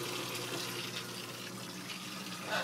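Water pours steadily down into a DIY sump refugium, a soft continuous splashing trickle at low level.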